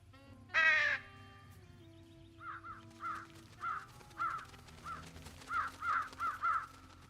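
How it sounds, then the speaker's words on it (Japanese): Crows caw in the video game Truberbrook: one loud call first, then a run of shorter, evenly spaced caws at a moderate distance over faint ambient background, with no talking. "鳥、カラスか。"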